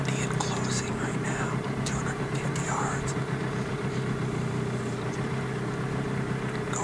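Boat engine idling steadily on water during a moose hunt, a low continuous hum beneath quiet whispered talk.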